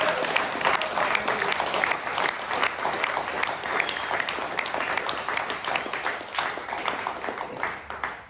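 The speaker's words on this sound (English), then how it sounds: "Let's have a round of applause for him." A crowd applauds steadily for several seconds at a graduation, dense clapping from many hands nearby, holding an even level before tapering slightly at the end.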